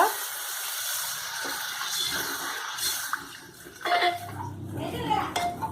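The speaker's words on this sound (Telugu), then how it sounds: "ఫ్రై అయిపోయింది ఇప్పుడు దీంట్లో నేను వాటర్ వేస్తున్నాను అన్నమాట" Water is poured into a pot of frying moong dal, giving a rushing gush over clattering metal pot and utensil sounds, with a brief hiss as it hits the hot pan.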